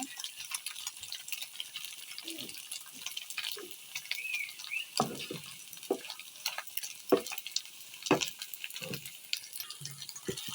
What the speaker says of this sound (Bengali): আর এটা পর্যাপ্ত তেলে ভাজতে হবে।